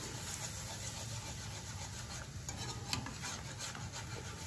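A utensil stirs milk into hot venison pan drippings for gravy, a steady close scraping and rubbing against the pan bottom with a faint sizzle underneath, continuous with no talk.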